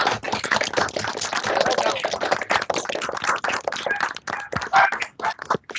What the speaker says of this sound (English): how about one last round of applause for our graduates?